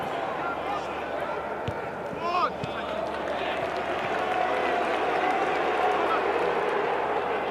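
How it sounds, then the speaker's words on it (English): Football stadium crowd at a cup match, a broad roaring swell of voices rising in the second half as fans urge a shot, with a commentator's voice and brief whistles over the top. "Crowd shouting shoot."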